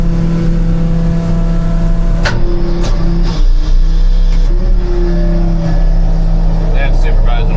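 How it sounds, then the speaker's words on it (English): A skid steer works through thick mud in a parking lot after a major flood, its engine droning loudly and steadily with a few sharp clanks and knocks in between. "Got Randy on the skid steer."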